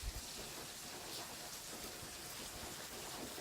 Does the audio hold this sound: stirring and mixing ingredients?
no